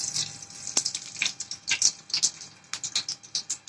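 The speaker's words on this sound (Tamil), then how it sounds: "வெந்தயம் போடுறேன்." Fenugreek seeds crackle and sizzle in hot sesame oil for a Tamil vanjaram fish gravy, giving a close, uneven run of sharp pops and spits with brief quiet gaps between.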